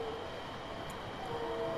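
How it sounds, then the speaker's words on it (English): A train rumbles past in the video game The Norwood Suite, a steady, loud mechanical drone with a faint high whine, heard alone. "There goes that train."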